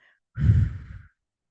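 A single slow breath out through the mouth, pushed as if through a straw, close and breathy, lasting under a second in otherwise quiet surroundings.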